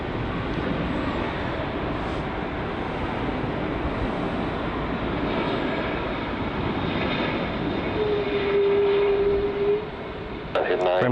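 A fixed-wing airliner on approach to land at Heathrow Airport gives a steady, broad engine roar that swells slightly near the end, heard amid outdoor wind noise with someone talking briefly.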